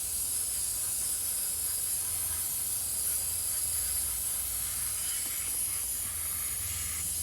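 Dry lube spray aerosol being sprayed onto a vintage Electric Tool Co. Hi Power Model 77-J portable electric drill during restoration, one continuous close hiss lasting several seconds without pause, no talking.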